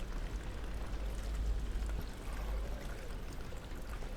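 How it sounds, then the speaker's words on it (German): Rain falling in the horror game Amnesia: The Dark Descent, a steady wash of patter and trickling water with a low rumble beneath, constant and moderately close, without voices. "Es regnet."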